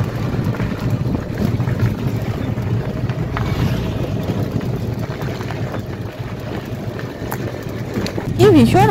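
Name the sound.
strong wind blowing outdoors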